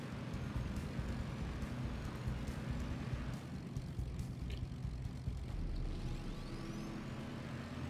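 Propeller aircraft drone steadily through the whole stretch in the naval battle game World of Warships with an Ark Royal carrier, a dense, continuous low engine rumble mixed with faint whooshes and distant game effects, no voices.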